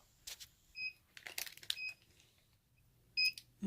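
Short electronic beeps from equipment in a sublimation mug crafting setup: a couple of brief tonal bleeps and a double beep near the end, faint against quiet rustling and handling noises.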